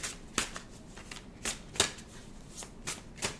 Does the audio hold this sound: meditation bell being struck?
no